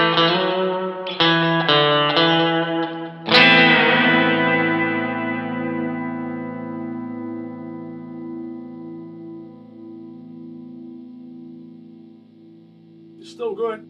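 A Rob Williams Classic 57 electric guitar on its back pickup with a clean tone plays a few quick picked notes, then one ringing chord that sustains and slowly fades for about ten seconds before a short rustle.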